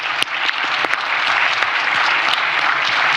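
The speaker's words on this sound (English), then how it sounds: "A round of applause for Zambia." Steady round of applause from the audience at an IMF debt-reform event marking a signed Memorandum of Understanding with Zambia's creditors, dense continuous clapping filling the room with a few sharper claps standing out, no voices.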